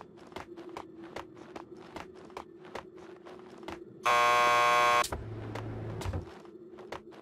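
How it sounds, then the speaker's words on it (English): A door buzzer in the video game Max Payne 2 sounds loud and steady for about a second, cutting over a bed of soft repeated footsteps and clicks, followed by a lower hum. "Just press the buzzer by the door."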